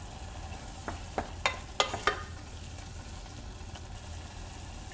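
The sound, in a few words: tomatoes cooking down in a pot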